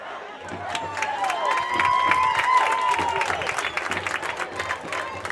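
A crowd at a Parkway high school football game cheers and claps from the stands at moderate distance, a steady swell of applause and shouts, with a whistle-like tone drifting through the middle.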